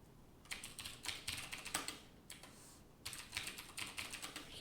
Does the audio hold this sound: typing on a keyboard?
yes